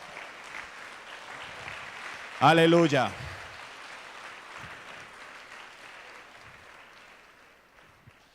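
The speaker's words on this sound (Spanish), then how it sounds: "levante ese aplauso para el Señor" Church congregation bursting into applause and cheers for about half a second of loud clapping amid a sermon setting, with a voice shouting over it before the room settles back to quiet murmuring.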